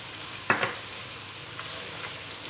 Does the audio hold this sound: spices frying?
yes